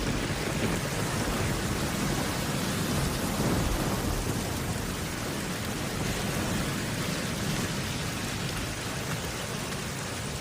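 A heavy thunderstorm at the start of the rainy season in lion country, with dense, steady rain pouring down and deep thunder rumbling under it, loud and continuous with no voices.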